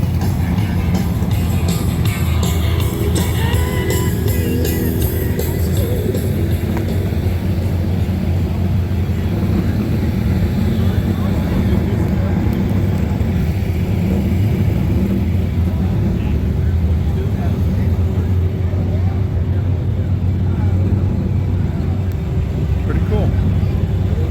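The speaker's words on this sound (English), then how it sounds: "they fire these up about every 2 or 3 hours just to hear them run" Old front-engine dragster engines roar loudly and steadily throughout at a car show, a continuous rumbling idle with muffled voices beneath.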